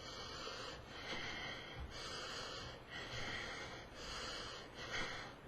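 Exaggerated heavy breathing, with the shoulders heaving on each breath: a series of loud, rough breaths in a slow, even rhythm, close up and with no speech.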